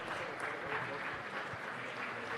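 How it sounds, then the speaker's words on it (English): A round of applause for a councilman at a city council meeting sounds as dense, steady clapping from an indoor audience. The clapping is moderately loud and sustained throughout. "Let's give him a round of applause."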